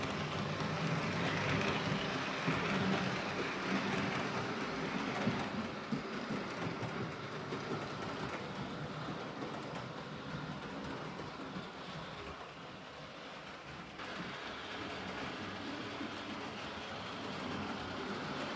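A Hornby Harry Potter model train runs around its layout track with a continuous rumbling whir and faint rail clatter, close and fairly even in level throughout.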